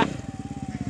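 A Yamaha Raptor quad bike's engine revs hard nearby on a dusty track, a loud, rapid pulsing drone with a steady rhythmic throb throughout.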